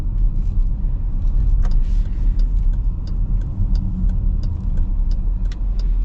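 A 2024 Dodge Durango GT with a Hemi V8 drives along, giving a steady low engine rumble and road noise at close range, with a few faint clicks and no talk.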